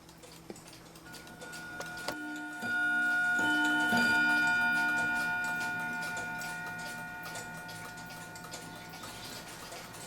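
A Keebler love bird pendulum clock ticks steadily and evenly at close range, with a ringing metallic tone swelling midway and slowly fading beneath the ticks.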